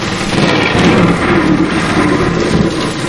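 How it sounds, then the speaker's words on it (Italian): A loud, dense thunder-and-rain sound effect meant for adding to edited footage, with a continuous heavy rumble and steady rain wash filling the whole stretch and no voices. "potete mettere insieme l'effetto della pioggia, l'effetto del tuono"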